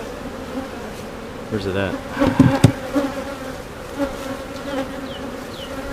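Honey bees buzz around an open beehive during a hive inspection, a continuous close drone with louder passes rising briefly in the middle; a person speaks briefly over the buzzing.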